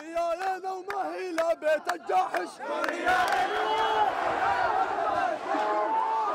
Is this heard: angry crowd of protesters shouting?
yes